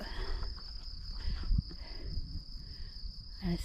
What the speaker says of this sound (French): on entend les grillons